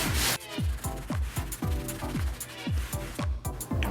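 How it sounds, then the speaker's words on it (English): A brush scrubs a car's carpet floor mat soaked in Tartar Sauce upholstery cleaner, giving close, loud, rhythmic rasping strokes about twice a second that each sweep down in pitch, with a burst of spray-like hiss at the very start. "you just want to agitate the carpet. I'm going in circles."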